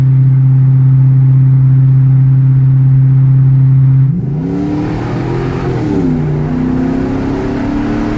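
A Ford Super Duty pickup with a 6.2 V8 and a 4-inch Flowmaster exhaust idles with a deep, steady drone, then the engine note rises and falls as it accelerates, loud and close.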